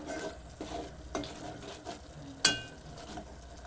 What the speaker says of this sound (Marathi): चांगला परतून घ्यायचा. मसाला चांगला भाजला आहे हा बघा.